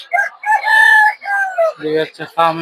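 Chickens at a busy poultry market in Tongi, Dhaka, cluck and crow loudly and close by in a quick run of harsh, strained calls.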